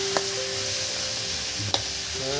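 Katla fish heads frying in hot oil, a steady close sizzle with a couple of sharp clinks of a utensil against the pan; no talk.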